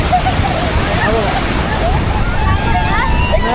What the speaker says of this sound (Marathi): बघा, मोठी लाट आली आहे.